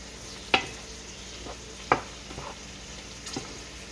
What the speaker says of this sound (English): So I can get some string beans on the spoon.